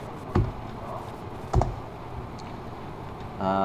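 Two soft, separate keyboard taps from shortcut keys pressed on a computer while modeling in 3D software, with quiet room tone and no voice.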